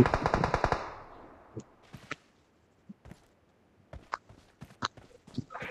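BGMI mobile battle royale gunfire: a loud rapid automatic burst up front, then scattered single shots and short cracks at varying distances with quiet gaps between.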